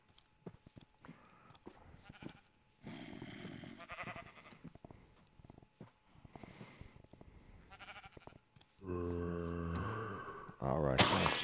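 Sheep in the Minecraft video game bleat repeatedly in short, buzzy calls spread across several seconds, some loud and close, mixed with game sounds and a person talking between them.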